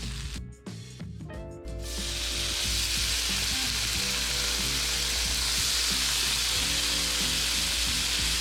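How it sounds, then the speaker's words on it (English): Bacon frying in a pan for a breakfast burrito: a few soft clicks and handling noises, then a loud, steady sizzle sets in and continues close and unbroken. "I'm probably gonna start cooking the bacon."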